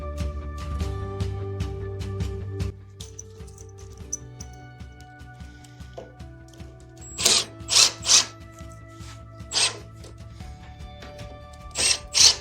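Cordless power drill driving A screws into a flat-pack piece, heard as several short loud whirring bursts in quick succession after a stretch of quieter handling and clicking, with no talk.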